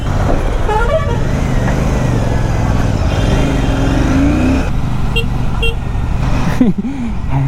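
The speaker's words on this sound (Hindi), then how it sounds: "इतना हैवी बिग बल्की बाइक और हॉर्न इतना मिनिमल था, पिप पिप" A Royal Enfield Bullet 650 motorcycle gives short, thin beeps of its horn, brief and light against a loud rumble of engine and road noise.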